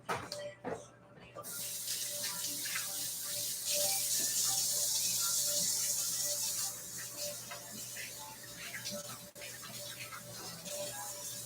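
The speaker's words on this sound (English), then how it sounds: "I got masa on my hands, so let me go wash my hands really quick." Kitchen sink tap running steadily while hands are washed free of masa dough, close, with a constant rush of water and faint splashing and shifting as the hands move under the stream.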